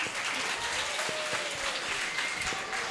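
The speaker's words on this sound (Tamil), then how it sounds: "எல்லாருக்கும் திரும்பியும் அவங்களுக்கு ஒரு அடி கைத்தட்டி." Audience applause at a church Vacation Bible School final-day celebration, steady dense clapping from a crowd that carries evenly through the whole stretch.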